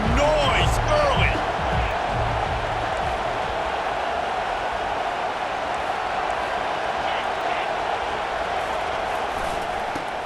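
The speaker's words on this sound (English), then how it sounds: "This crowd bringing the energy and noise early." Steady roar of a large stadium crowd at a college football game in the video game EA Sports College Football 25 fills the whole clip, a dense continuous wash of cheering with a few brief louder calls near the start.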